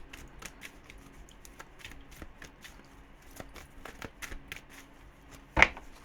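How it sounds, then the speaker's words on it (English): Tarot deck being shuffled by hand, quiet papery riffles and taps recurring irregularly, with one louder snap near the end; no speech. "It's such an awkward deck to shuffle."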